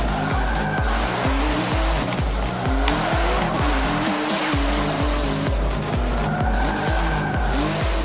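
Race cars in the video game Forza Motorsport 7 drift through corners, tires squealing in long sustained skids over a loud, steady engine roar with rhythmic gear-shift pulses, continuous and close throughout.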